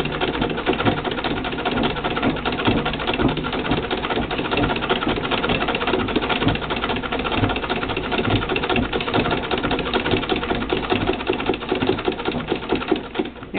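A treadle sewing machine stitches through a pieced quilt with a continuous, rapid mechanical clatter, steady and close throughout with no pauses.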